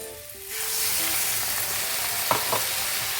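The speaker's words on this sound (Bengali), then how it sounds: "এখন আমি মশলার যে জলটা ওটা অ্যাড করব" Masala water poured into mixed vegetables frying in a pan sets off a loud, steady sizzle, with a couple of brief stirring scrapes near the end and no talking.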